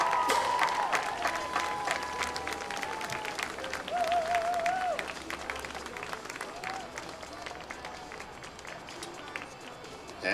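Crowd in the stands at a high school varsity football game applauding senior band members, steady clapping and scattered cheers over a continuous crowd murmur, with brief tones from a PA or instrument sounding underneath.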